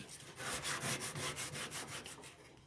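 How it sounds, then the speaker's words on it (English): A coarse scrubber rubs back and forth along the edges of a wood cook stove, a steady series of close, fairly quiet scraping strokes. "it's a fairly coarse scrubber. Gets all the excess crap out from along the edges"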